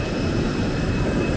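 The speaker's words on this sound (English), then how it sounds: "Is that the airplane?" A jet airliner at an airport before boarding gives a loud, steady roaring engine drone with a faint high whine, continuous and fairly close, with no talk over it.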